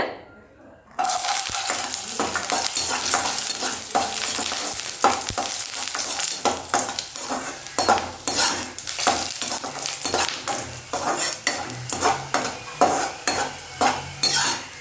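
Garlic cloves fry in oil in a pan that has just held dried red chillies. A steady, loud sizzle starts abruptly after a brief silence, broken by rhythmic metallic scrapes and clinks of a spoon stirring and tossing the cloves.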